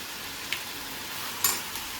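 Noodles being stir-fried with soy sauce in a home kitchen, a steady low sizzle with a couple of brief louder spatters as the pan is stirred, no talking.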